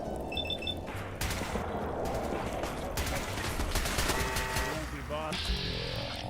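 Rapid gunfire from a firefight in Fallout 4, with dense bursts of shots, sustained automatic fire and crackling impacts layered over one another, fairly loud, with a few electronic game tones mixed in.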